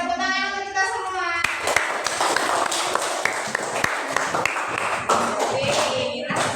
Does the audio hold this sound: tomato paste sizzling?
no